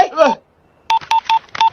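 Telephone keypad dialing tones: four short, evenly spaced beeps follow a brief burst of speech, clear and close.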